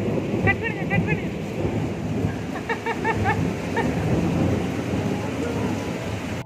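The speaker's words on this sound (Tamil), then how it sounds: "இடி விழுந்துருச்சேடா" Thunder rumbling through steady heavy rain during a rainy-season storm with flooding at a home, a continuous broad roar that stays loud throughout, with brief faint voice-like bursts near the start and middle.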